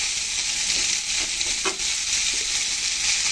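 Vegetables, cauliflower among them, frying in hot oil until reddish, giving a steady close sizzle with light stirring scrapes and no voices.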